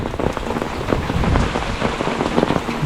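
Heavy rain pours steadily onto a surface, a dense continuous patter of drops with no voices, close and fairly loud throughout.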